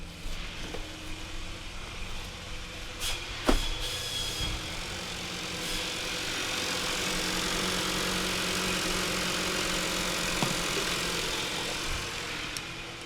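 A 2026 Hyundai Tucson engine idles steadily after starting, a close, even hum that holds throughout with a couple of brief clicks early on.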